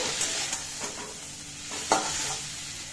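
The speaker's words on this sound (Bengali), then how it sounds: "দিয়ে দিচ্ছি হলুদ, দিয়ে ভালো করে এটাকে ভাজতে হবে" Prawn heads frying with turmeric in a pan, a continuous bright sizzle with occasional spatula scrapes and stirring knocks, close up and fairly loud throughout.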